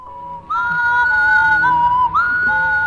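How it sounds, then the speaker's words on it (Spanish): Non-melodic whistling in an analog horror piece, a clear, loud whistle holding wavering pitches with a few abrupt swoops and short breaks, heard alone. "cuando el silbido no es melódico, significa que los extraños están de caza"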